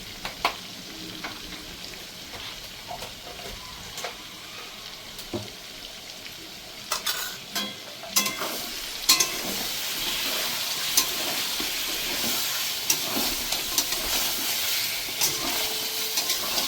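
Green chilli paste and ginger paste frying in hot oil for chicken kadai, a continuous hissing sizzle that swells louder partway through, with scattered clicks and scrapes of stirring.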